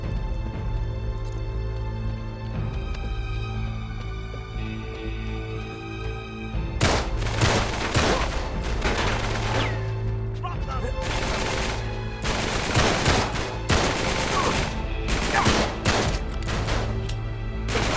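Gunfire in Uncharted 3 pops in quick clusters over a steady game backdrop, starting quietly and turning dense partway through, with sharp close shots and rattling bursts repeating irregularly.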